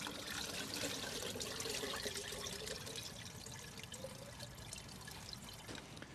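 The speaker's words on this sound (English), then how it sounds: "try to get as much of that water through the net, just to extract as much clay from the soil as possible" Water and clay soil mixture drains through a sieve net outdoors, a steady close trickling and pouring wash with continuous watery hiss and no pauses.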